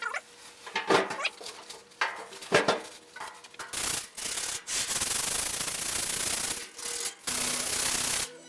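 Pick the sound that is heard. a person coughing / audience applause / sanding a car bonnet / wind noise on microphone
sanding a car bonnet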